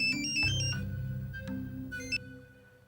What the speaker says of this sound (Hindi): फोन है? फोन है। अच्छा अच्छा,